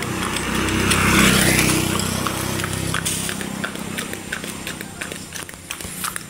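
Horses used for transport travel along a road, their hooves clip-clopping in a steady, fairly close rhythm, while an engine drone fades in the background.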